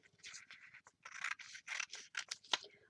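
Scissors snipping through material to trim out black and orange sections, a quick run of close, crisp cuts in irregular bursts with no talking.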